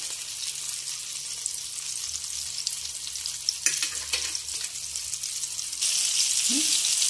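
Liver fries in a pan with a continuous close sizzle and a couple of soft clicks, and the sizzle grows louder toward the end.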